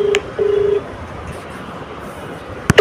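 Speakerphone call being dialed, with a few short keypad tones and a steady electronic tone near the start, quiet hiss in between, then a sharp click and tone at the end.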